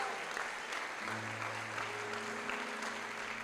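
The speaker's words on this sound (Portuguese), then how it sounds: "Aleluia, aplauda ao Senhor." Church congregation clapping in praise, a fairly faint, continuous wash of many hands with a low hum running beneath it.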